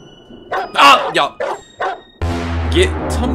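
A dog in The Happyhills Homicide wakes and gives a quick string of about five barks, then a steady rumbling background takes over; someone talks over the scene.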